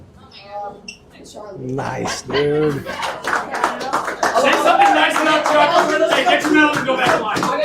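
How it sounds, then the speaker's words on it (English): Scattered, modest hand clapping at a youth hockey medal ceremony, a few people applauding at close range amid talking voices and some shuffling. "I get the littlest amount of claps"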